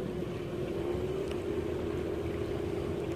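An outboard motor on a small fishing boat on a Florida lake drones steadily with a low humming engine note, continuous and fairly close under light wind noise.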